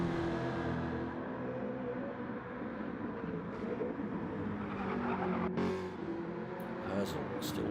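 Race cars in a sim racing league run at the Nürburgring Nordschleife, a steady engine drone held at a moderate distance throughout, with faint brief clicks near the end.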